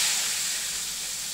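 Garlic and onion hit hot oil in a pan for a short burst of bright hissing sizzle that holds steady and fades slightly.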